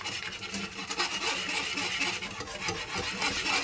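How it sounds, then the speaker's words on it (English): A whisk scrapes steadily around a pan of flour sauce being made for a white chicken and mushroom lasagne, a continuous close rasping and rubbing that runs alone without pause. "just whisk this so it's lump free before I add the remaining amount of liquid into this"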